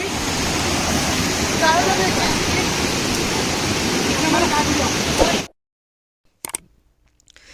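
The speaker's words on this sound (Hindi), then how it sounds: "ये झरना जलप्रपात जो है बहुत ही बेहतरीन है" Waterfall at Ghatarani in Gariaband, Chhattisgarh, a loud steady rush of falling water for about five seconds, then it cuts to near silence with a couple of faint knocks.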